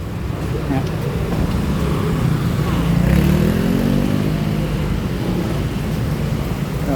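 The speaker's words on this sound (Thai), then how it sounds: "เลิกงานเนี่ยมอเตอร์ไซค์จะเยอะมาก" Several motorcycles pass through a narrow street, a dense, continuous engine rumble and road noise that swells slightly in the middle as one rides close by, with no clear talking over it.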